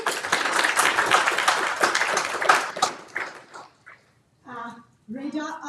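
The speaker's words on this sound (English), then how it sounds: "a round of applause for Giselle" Audience applause for a speaker at a Geneva panel event, a burst of clapping for about three seconds that fades out, followed by a voice speaking.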